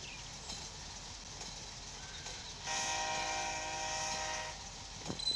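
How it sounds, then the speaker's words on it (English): Passenger train pulling away from Tacoma Station in the Train Sim Pro USA game, a steady mechanical rumble with a sustained horn-like tone swelling in the middle before fading back, with no voices. "Yep, looks like we got a passenger train that just left Tacoma Station."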